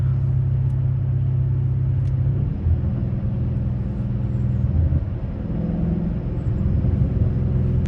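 A low, steady rumble of a Dodge Challenger Scat Pack engine cruising at night, heard from inside the cabin, with the drone shifting slightly in pitch as speed changes.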